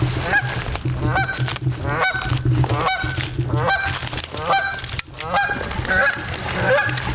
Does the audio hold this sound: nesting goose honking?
yes